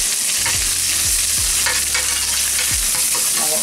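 Garlic, ginger paste and coriander paste sizzle steadily in a hot pan over reduced heat, with a few soft scraping stirs of a spoon against the pan at intervals, close and fairly loud.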